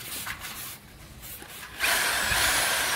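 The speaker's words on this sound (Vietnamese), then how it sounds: "Khoan cách này có thể nó mau hơn cái cách mình khoan bên đây qua đó anh em." A power drill bores out a broken screw, with light scraping at first, then a loud, steady grinding whir with a high whine kicking in partway through and running to the end, close by.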